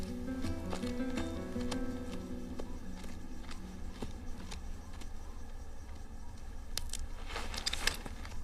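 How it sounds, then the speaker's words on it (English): Horse hooves clip-clop steadily over a dense, noisy background in a Western film, with a few sharper knocks and rustles toward the end. "I'm gonna go get the horses."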